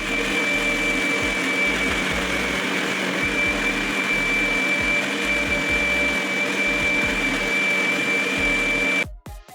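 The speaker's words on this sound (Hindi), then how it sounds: "अब मिक्सर जार को कवर करके तब तक ब्लेंड करेंगे जब तक कि ये" A mixer blender whirs loudly and steadily, blending mango, ice and vanilla ice cream for a mango shake, with a constant motor drone and rhythmic churning that cuts off abruptly near the end.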